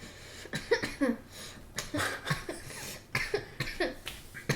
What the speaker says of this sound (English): You start coughing.